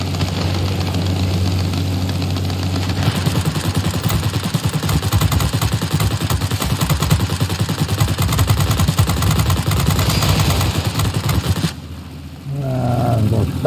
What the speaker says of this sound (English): Never run out of bullets, but you can overheat your guns.